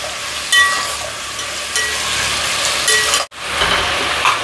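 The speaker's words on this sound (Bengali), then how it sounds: "টমেটোগুলো কাটা ছিল, এগুলোও দিয়ে দেবো। ভালো করে নেড়ে দেবো আবার।" Chopped tomatoes frying in a pan while being stirred, a loud steady sizzle with clanking spoon strikes against the metal, broken by one brief silent gap.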